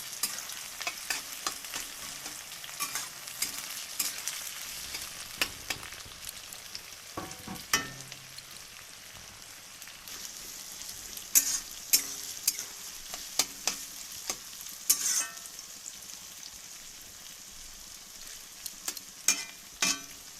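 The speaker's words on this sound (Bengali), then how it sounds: "এবার পেঁয়াজটা ভালো করে লাল লাল করে আগে ভেজে নিই" Chopped onion frying in hot oil in a home kitchen pan, a steady soft sizzle running throughout with frequent scraping and clacking of a spatula as it is stirred, no voices.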